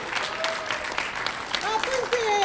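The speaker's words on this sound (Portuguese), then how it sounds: "Palmas para ele." Audience applause rises at a live children's performance, scattered clapping with voices talking and calling out over it, the clapping building slightly toward the end.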